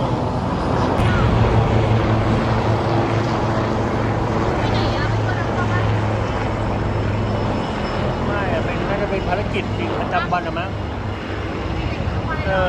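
A low, droning helicopter engine hum persists throughout as it flies overhead near a military camp in Sattahip, with people talking over it.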